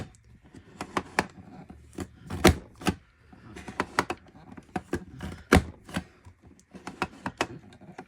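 A Creative Memories border maker punches and cuts scrapbook paper in a quick run of sharp, crisp clacks and snips, close and fairly loud, spaced irregularly with brief pauses between them and no talking.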